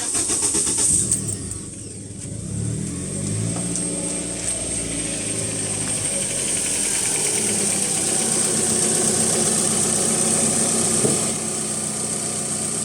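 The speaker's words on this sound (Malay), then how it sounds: "Okay, kita start engine." A car engine cranks and starts during a battery check, then settles into a steady close idle hum that carries on unbroken to the end.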